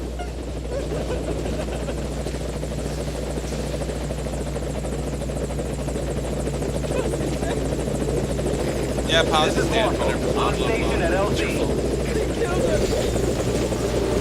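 Helicopter from the video game Metal Gear Solid V coming in to land, its steady rotor drone loud and continuous throughout while someone talks over it.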